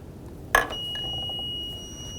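An Extech MO290 moisture meter, pressed against a piece of wood soaked in water overnight, sounds its alarm: one sharp beep, then a steady high electronic tone that holds to the end, close and clear.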